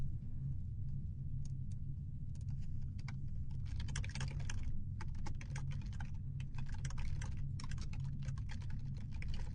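Computer keyboard typing in rapid clustered bursts with short pauses, close and moderately loud over a low steady hum, no voices.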